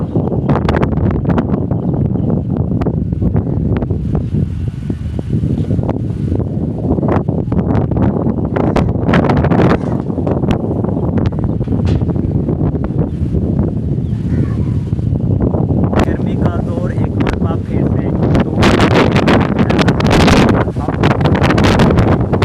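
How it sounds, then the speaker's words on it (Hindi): Strong stormy wind gusts and roars without a break across an open village setting, buffeting hard and rising and falling in force, while someone talks over it. "बहुत ज़्यादा तेज हवा अभी भी चल रही है और आंधी भी तेज आ रही है।"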